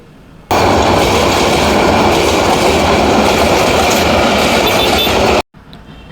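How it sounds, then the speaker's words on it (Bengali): A train rolls past a railway crossing, heard from a CNG auto-rickshaw waiting on a road in Bangladesh: a loud, steady rumble and clatter of wheels and carriages that holds for about five seconds, then cuts off abruptly. "এই যে রেলগাড়ি চলে যাচ্ছে।"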